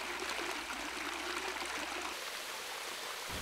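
Mountain stream running down a steep slope through evergreen tropical rainforest in the Central Highlands, a steady, soft rushing and trickling of water heard alone at low level.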